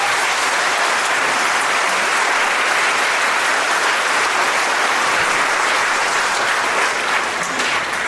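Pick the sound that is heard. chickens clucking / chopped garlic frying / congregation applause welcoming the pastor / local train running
congregation applause welcoming the pastor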